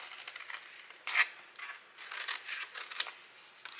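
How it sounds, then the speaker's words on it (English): Scissors snipping through a paper pumpkin treat box for a Halloween craft, a run of close, crisp cutting and rustling strokes, quiet and alone. "I'm actually going to cut this down a hair too"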